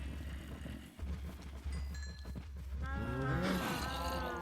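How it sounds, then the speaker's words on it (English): Minecraft cows moo in a herd being bred, a layered, wavering low moo swelling near the end over steady game background noise. "So, I'm just gonna breed all these cows here."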